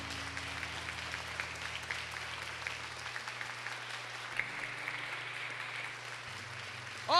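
A church congregation claps for Our Lady of Fátima, a dense, steady patter of many hands continuing throughout at moderate distance, with a low hum underneath.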